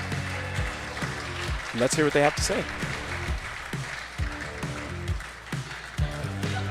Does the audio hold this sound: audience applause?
yes